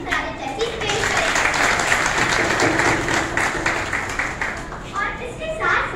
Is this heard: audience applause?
yes